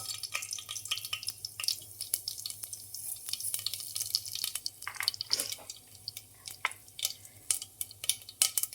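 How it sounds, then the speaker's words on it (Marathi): Crackling pops and sputters of cumin and mustard seeds spitting in hot oil, irregular and close, with scattered sharp snaps over a low steady hum. "आता छान फोडणी द्यायची आपल्याला आता जिरं मोहरी टाकते"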